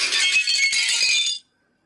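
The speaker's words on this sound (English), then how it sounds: "I hope you hear the sound of the splashes of glass sound." A bright, hissing splash of glass, like shards or droplets scattering, lasting just over a second before cutting off to silence.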